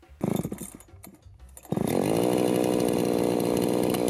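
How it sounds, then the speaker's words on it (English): A chainsaw in a South African forestry setting starts with a few rough bursts, then roars into a loud, steady, continuous run close by, with no talk over it. "Chainsaws are powerful and highly dangerous tools."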